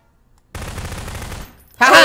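Rapid gunfire in the video game Prop Hunt, a loud burst of about a second followed by a brief pause and a second sharp burst, with no talking over it.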